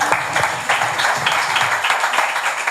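An audience at a book presentation in León applauds steadily for a few seconds, a dense, fairly loud patter of many hands with no voices over it.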